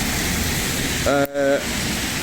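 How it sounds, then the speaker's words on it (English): Steady hiss of heavy rain pours throughout, with a brief voice breaking in for a moment in the middle. "It's raining cats and dogs."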